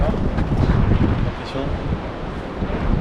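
Strong wind gusting at a coastal clifftop viewpoint on Nusa Penida, Bali, heavy buffeting rumble on the microphone that stays loud and continuous throughout.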